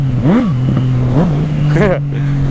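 A Yamaha MT-09 or Honda CB1000 motorcycle accelerates on the road, engine pitch rising and falling through several loud revs up close, with excited voices over it.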